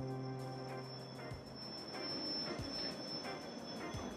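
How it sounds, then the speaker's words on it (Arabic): A train crossing a bridge over a river, steady close rail rumble with a sustained wheel squeal and rhythmic clicks from the wheels passing rail joints, no voices. "القطار يسير على نهر."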